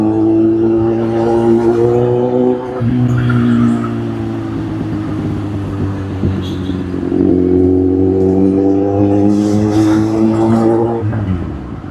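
A white Mahindra Thar's engine revs loudly through its exhaust near the microphone, the note climbing and holding before dropping back, then rising again in a second sustained rev.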